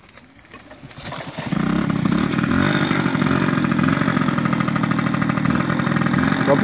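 A Peugeot 103 Vogue moped engine starts up and settles into a loud, steady, buzzy idle close by.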